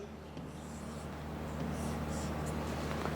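Pen scratching across paper while the Sanskrit numeral one is written by hand, a soft continuous rubbing with a few brief strokes, close and quiet with no speech.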